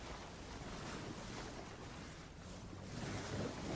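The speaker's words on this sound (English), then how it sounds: "It's windy, very windy out here" Strong wind blows across the water of Sydney Harbour during a sailing Grand Prix, a constant broadband buffeting rush with lapping water noise beneath, steady and fairly faint with no speech.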